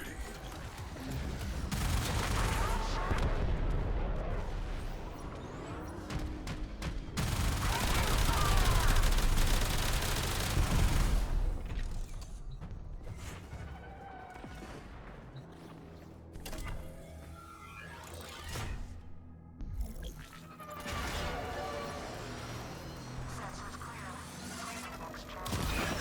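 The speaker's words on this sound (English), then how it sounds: "Cruise ship reactor has detonated." Cruise ship reactor detonating in the video game Warframe, a loud rumbling blast with rattling debris that fades into scattered mechanical clatter and crackles, with a voice speaking over it.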